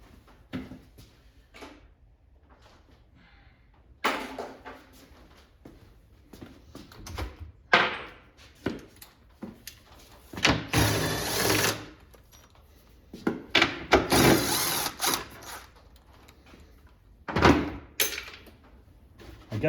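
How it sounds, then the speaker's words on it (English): Bolts being worked loose from an old Q*bert arcade cabinet produce scattered metallic clicks, ratcheting bursts and hollow wooden thunks at close range, irregular and stop-start with no talking. "I gotta take these other two bolts out first"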